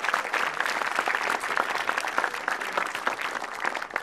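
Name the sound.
audience applause for the heroes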